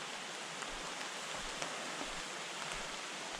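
Rain falling steadily on a hiking trail up Owls Head in New Hampshire, a continuous soft hiss of drops with no talking, even and close all the way through.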